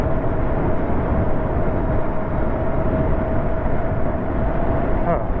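A 2023 Lankeleisi RV800plus electric bike at full throttle on a private driveway, a steady loud rush of wind and motor whine with a faint constant tone, with no pauses and no talk.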